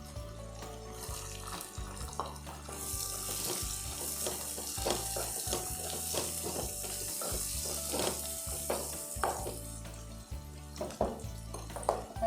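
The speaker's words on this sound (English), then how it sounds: "Add the onions." Onions sizzle and fry in hot oil in a pan for a prawn pickle, with a steady crackling sizzle and repeated stirring and scraping knocks, close up and with no talking.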